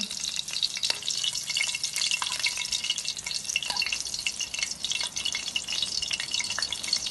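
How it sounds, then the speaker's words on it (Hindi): Samosa paratha fries in ghee in a pan, giving a steady, close, hissing sizzle that runs the whole time with faint crackles and spatters, and no voices over it. "ये देखें, दोनों तरफ से ये देखें हो गया है फ्राई"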